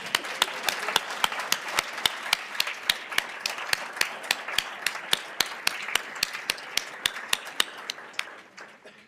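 A small audience at a scholar-athlete recognition ceremony claims for standing Honors College students. The clapping is sparse and sharply separated, close and steady, and it stays alone without talk.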